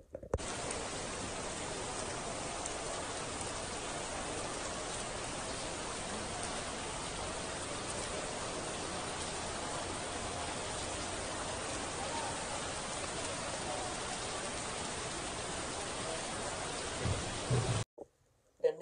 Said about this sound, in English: this is what the empty Mecca looks like during the rain